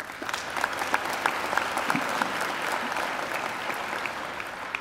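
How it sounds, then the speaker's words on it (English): A hall audience at a university graduation ceremony breaks into sustained applause, bright overlapping claps filling the room at an even, moderately loud level. "join me in giving Angela another great round of applause"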